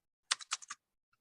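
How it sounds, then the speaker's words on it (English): Quick burst of about five keystrokes on a computer keyboard during an online college algebra review session, close and crisp, followed by a single faint tap and silence. "come on, keyboard."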